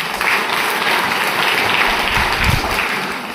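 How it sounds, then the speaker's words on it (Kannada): An audience at a village sports meet opening ceremony claps in a dense, steady round of applause, loud and continuous throughout with no talk. "ಜೋರಾಗಿ ಚಪ್ಪಾಳೆ ಬರಲಿ."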